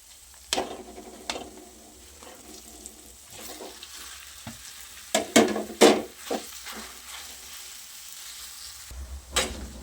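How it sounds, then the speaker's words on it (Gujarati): Potatoes being stirred and mashed into sizzling spiced masala in a pan for vada pav sandwich filling, with intermittent scraping strokes over a steady low fry, a few sharper knocks of utensil on pan. "હવે એમાં બટેટા ઉમેરી મિક્સ કરી લઈશું"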